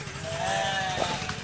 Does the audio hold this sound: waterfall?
no